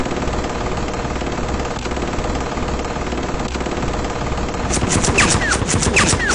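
A tail gunner's machine gun fires from a B-17 bomber in flight, bursting into loud, rapid rattling shots over a constant droning engine roar in the final seconds.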